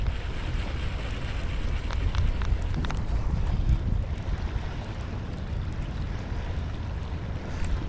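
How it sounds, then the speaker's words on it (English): Strong wind buffeting the microphone on a fishing pier, a constant rough roar with gusty low rumble and no voices. "It's windy."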